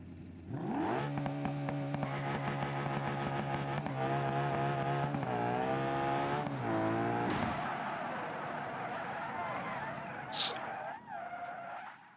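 A drag car engine in the BeamNG video game revs hard, its pitch climbing and wavering for several seconds before cutting out abruptly, followed by lower sputtering and a brief burst.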